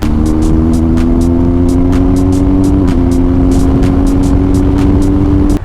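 A BMW R1250 GSA motorcycle engine idling close by, a loud steady drone with a faint dip midway and rhythmic ticking on top, cutting off abruptly at the very end; no talk.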